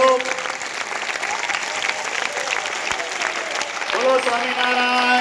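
Sustained applause from a large crowd at a temple celebration of Prime Minister Narendra Modi's 75th birthday at Vadtal, loud and steady throughout and swelling slightly near the end, with voices mixed into the clapping.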